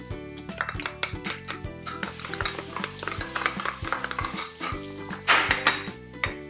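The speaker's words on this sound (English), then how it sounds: "And you just saute it just for a few seconds." Onions and garlic sautéing in a pan give a close, steady sizzle, broken by repeated clinks and scrapes of a utensil stirring against the pan, with no voices.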